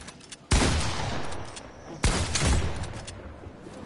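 Shotgun fire in a video game: two loud, close blasts about one and a half seconds apart, each a sharp crack trailing into a long, rumbling decay.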